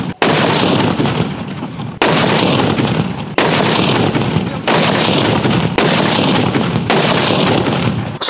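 Athiradi Kundu firecrackers exploding in a village, six loud sharp blasts spaced about one to two seconds apart, each followed by a long crackling, rumbling decay.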